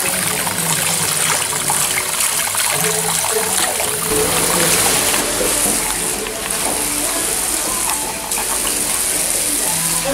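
Water runs steadily from a tap during a hair and face wash after a buzzcut, a loud, close, continuous splashing trickle with faint talk underneath.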